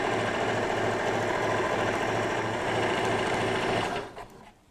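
A sewing machine runs steadily, stitching fabric for a table runner with a continuous, even mechanical whirr and rapid needle rhythm, then slows and stops near the end, with no voices.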